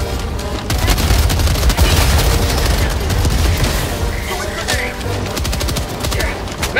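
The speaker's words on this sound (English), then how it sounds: "Throwing grenade" A grenade thrown in Helldivers 2 bursts into a blast that is buried in loud, nonstop automatic gunfire, with heavy booming rounds filling the whole stretch.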